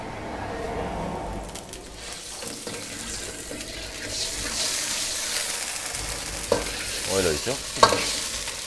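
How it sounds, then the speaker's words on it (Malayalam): Coconut oil is poured into a pan for a Kerala dish and stirred, giving a soft steady sizzle and hiss with a few scraping stirs near the end, fairly close and quiet. "നമ്മൾ ഓയിൽ ഒഴിക്കും ഓയിൽ ഒഴിക്കും"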